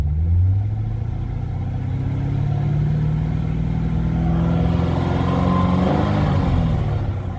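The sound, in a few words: sports car engine revving to 3000 RPM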